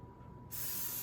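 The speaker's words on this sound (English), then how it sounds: "Now I'm going to spray the tops of the venison burgers." A can of cooking oil spray hisses over venison burgers in a pan: a short, close burst that begins after a quiet moment and holds steady to the end.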